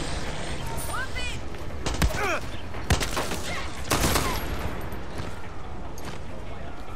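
Gunfire in the video game Far Cry 6, fired at point-blank range: rapid cracking shots in bursts over steady loud game ambience, with someone talking over them.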